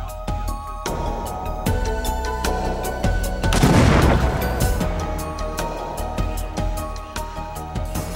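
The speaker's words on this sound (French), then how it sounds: "On peut enfin faire exploser le dispositif." A loud, rumbling blast of a detonated bomb device swells in the middle, surrounded by repeated sharp cracks and bangs, with scattered popping debris.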